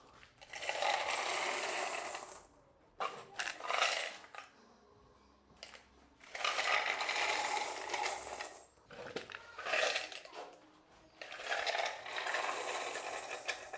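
Coins from a computer shop's coin slot machine are handled and poured out in repeated bursts of dense metallic jingling and clinking, separated by short quieter pauses, close and fairly loud with no talking.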